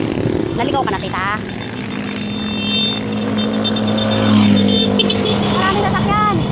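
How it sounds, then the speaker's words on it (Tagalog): Busy road traffic with many cars passing, heard from the roadside as a steady, fairly loud engine and tyre rumble, with a louder swell partway through and people talking over it throughout. "Maraming sasakyan."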